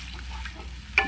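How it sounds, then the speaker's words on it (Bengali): A spice mixture sizzling and frying in a pan as it is stirred, with a steady bubbling hiss and one brief sharp clink near the end. "মশলার বাটিটা ধুয়ে জলটাও এর মধ্যে দিয়ে দেবো"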